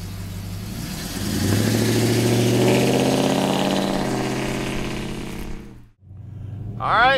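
A 1972 Chevrolet Monte Carlo with Ramjet fuel injection runs steadily and fairly loud close by, its engine note swelling, then cutting off briefly before firing back up at the end.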